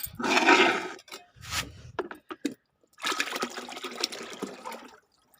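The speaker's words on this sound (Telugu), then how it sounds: "ఇవన్నీ దీనికి పోసి చూపిస్తానండి. నేను పోస్తున్నా." Kitchen waste water is poured from a container onto compost in a garden. Splashing gushes arrive in uneven bursts with short pauses between them, close and fairly loud.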